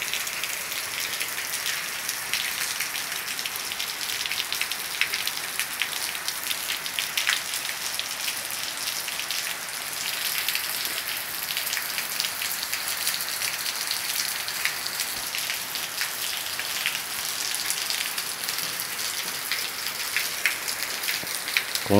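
Steady, heavy rainfall in rural Maranhão, Brazil, pours down continuously, a dense hiss of drops spattering on surfaces with no voices or other sounds.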